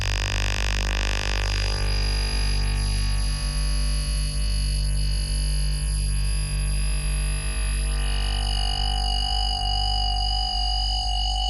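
Synthesizer FM module in a small modular rack, modulation frequency set very low with the amount turned up, producing a loud, dense, distorted drone whose pitch sweeps up and down in slow repeating arcs, alone throughout.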